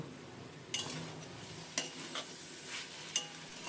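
A spatula stirs half a spoon of sugar through a potato, eggplant and greens curry in a wok: a few sharp scrapes against the metal over a soft, low sizzle.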